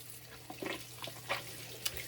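Water runs from a bathroom tap while a face is rinsed during a nighttime skincare routine. The flow is faint and steady, broken by soft splashes and a few brief louder spurts.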